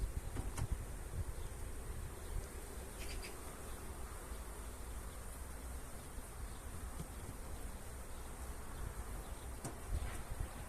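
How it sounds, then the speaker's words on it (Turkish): Italian honeybees buzz continuously around an opened hive during a beekeeping check, a soft, steady drone of many wings held evenly throughout, with no voices. "Arımız zaten İtalyan ırkı bir arı."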